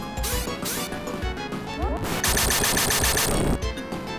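Rapid double slash attack hits in the video game Phantasy Star IV, a busy barrage of sharp, crashing impact sounds repeating in quick succession over retro game music, loud and dense throughout.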